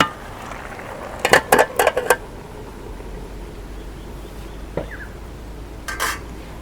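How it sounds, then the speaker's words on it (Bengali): Stirring taro greens with dried fish, jackfruit seeds and taro stolons in a pot: a quick run of close metallic scrapes and clinks, then softer scattered knocks against a low steady background hum. "এই দেখো শাকগুলো আমি নাড়াচাড়া করে মিলে দিই।"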